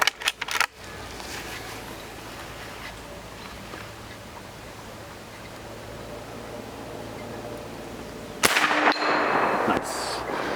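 ShinSung Career Ultra lever-action air gun fired from a shooting bench: a sharp shot at the start, a long quiet stretch, then another loud crack with a brief ringing tail near the end.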